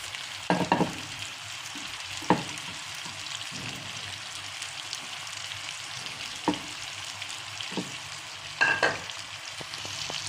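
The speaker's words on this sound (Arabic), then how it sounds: "هنضيف عليها ال3 بصلات الجوليان" Julienned onions sizzle and fry with liver in a pan, a steady loud crackle with occasional stirring scrapes and clatters throughout.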